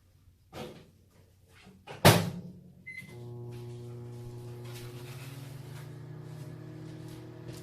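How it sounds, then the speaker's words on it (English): A microwave door clicks shut, then a steady low electrical hum with a faint whirring drone starts and continues evenly as the microwave runs nearby. "of a warm up in the microwave."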